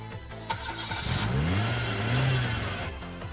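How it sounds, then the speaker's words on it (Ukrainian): Racing car engines from the anime Initial D rev and climb in pitch, growing louder as the cars approach on the finishing straight, then ease off; no voices. "Уже чути звук їхніх двигунів."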